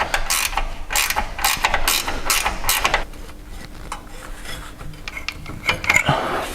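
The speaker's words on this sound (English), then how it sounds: "So here I am spending the next hour cutting through this bolt with a very blunt saw." A blunt hand saw grinds through a steel bolt while fitting control arms on a Jeep Wrangler Rubicon, giving a run of loud rasping strokes that slow and soften into scattered scrapes.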